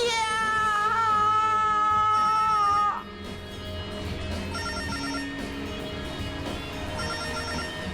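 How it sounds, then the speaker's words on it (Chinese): A loud electronic phone ring warbles for about three seconds and then cuts off, leaving quieter music playing on underneath. "你有电话"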